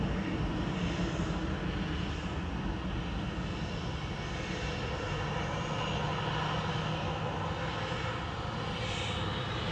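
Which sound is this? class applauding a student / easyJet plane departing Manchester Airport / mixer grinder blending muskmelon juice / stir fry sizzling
easyJet plane departing Manchester Airport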